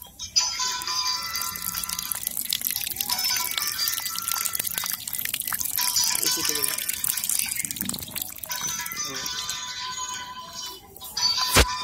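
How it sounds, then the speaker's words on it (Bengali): Water poured into a flower pot holding a marigold plant, a steady splashing trickle running nearly the whole time with some drips and a brief louder gush near the end. "এর মধ্যে জল দিয়ে দিচ্ছি।"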